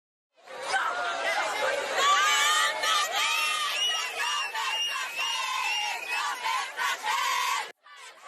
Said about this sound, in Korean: 하마스에 납치됐던 인질들이 50여일 만에 이스라엘로 돌아오자 시민들은 국기를 들고 환호합니다